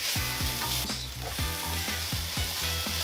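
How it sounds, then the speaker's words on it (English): Onions, garlic and cubed protein frying in oil in a pan, a steady loud sizzle with repeated scraping strokes of a utensil stirring at a regular rhythm, no voices. "Add some oil. Add your onions and garlic. And add whatever protein you want."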